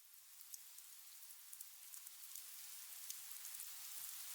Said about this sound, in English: Rain is falling.